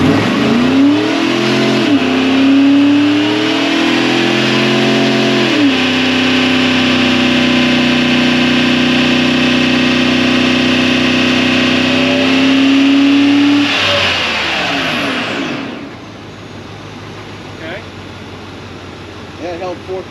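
Chevrolet Suburban with an 8.1 engine and a 4-inch catback exhaust revs hard on a dyno, a loud droning roar that climbs and holds at high RPM for many seconds, then cuts off and winds down quickly.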